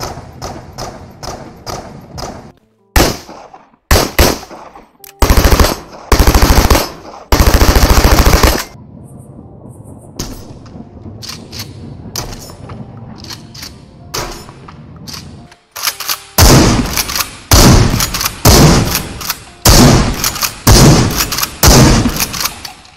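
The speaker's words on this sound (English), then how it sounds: "Here's a short comparison to what guns used to sound like and how they sound like now." Bursts of rapid gunfire from the video game Into the Radius, automatic rattles alternating with single heavy shots, loud and punchy, with quieter stretches of low rumble between volleys.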